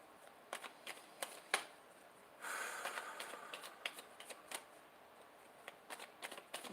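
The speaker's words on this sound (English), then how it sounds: "But Ginny, I am going to draw you a card here now. Shuffling away." Tarot cards are shuffled by hand in a quiet room: sharp papery riffles and snaps, then a longer continuous shuffle around the middle, followed by scattered taps and flicks of the deck, close and fairly soft.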